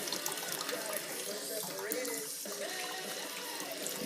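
Oktoberfest beer wort pours and splashes steadily through a filter in a home-brew BIAB setup, a continuous faucet-like trickle and gurgle at moderate level, with a voice talking faintly over it.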